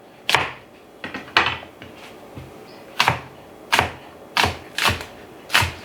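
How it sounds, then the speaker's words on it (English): Green onions being chopped with a knife on a cutting board: about eight sharp, separate thunks at an uneven pace, close and fairly loud, with no talking. "So now for my green onions. Some of these will be used for garnish and some we're going to cook in there. Cut off any questionable parts."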